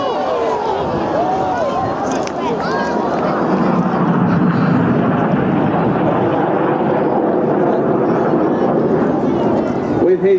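Red Arrows jets roaring overhead during the Palm Split manoeuvre at the 2014 Clacton-on-Sea air show, a sustained loud jet rumble and whoosh with crowd and commentary voices mixed in throughout.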